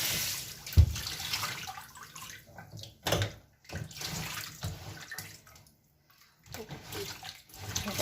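Water used to wash katla fish being poured out from a container in a home kitchen, a splashing, gushing pour with a sharp knock early on and uneven bursts of running water, close and fairly loud.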